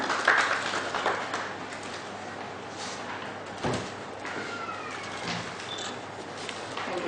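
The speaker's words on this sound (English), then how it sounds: "Big round of applause, ladies and gentlemen." Conference audience applauding at a transfer pricing seminar, a steady wash of many hands clapping at moderate distance, continuing evenly through the whole stretch with a faint thump partway.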